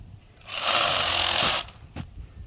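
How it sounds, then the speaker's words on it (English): Sawzall reciprocating saw cutting through a wooden shed roof rafter in one loud, close burst of about a second, then stopping, followed by a brief knock. "I'm going to cut that with a Sawzall."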